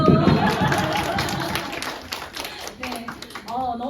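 A church congregation at a young adults' Sunday worship service claps in a loose burst of close hand strikes that thins out, with people talking over and after it.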